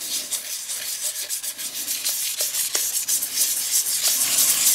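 Victorinox knife scales are polished by hand, producing rapid repeated rubbing strokes, close and fairly loud, in a steady scratchy rhythm without speech.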